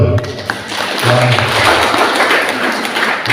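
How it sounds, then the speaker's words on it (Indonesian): A church congregation at a GKII Elim revival service in Banghabara, Alor claps together in a short, dense burst of applause with a little background sound, no voices on top. "Kasih tepuk tangan dulu ya."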